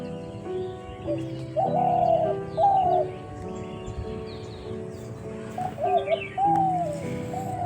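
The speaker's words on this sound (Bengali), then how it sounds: "ঘুঘু পাখি" A dove coos in a rooftop garden, repeating short rising-falling calls in two clusters, moderately close and clear above a steady, soft tonal background.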